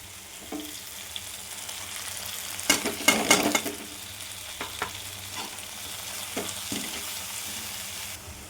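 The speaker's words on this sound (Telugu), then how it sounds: "ఇవన్నీ అందులో వేసి కాస్త ఫ్రై చేసుకుంటాం" Turmeric, chili, coriander, cumin and garam masala powders frying in a pan for a prawn curry, a low steady sizzle with a burst of loud stirring and scraping near the middle, then lighter intermittent stirring.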